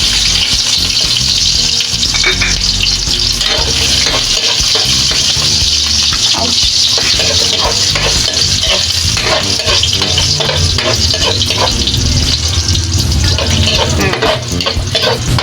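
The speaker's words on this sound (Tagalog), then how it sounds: "Maggisa na tayo. Ang ating bawang." Garlic sizzles loudly in hot oil in a pan as a squid and vegetable stir-fry begins, a constant close crackling hiss with occasional stirring scrapes throughout.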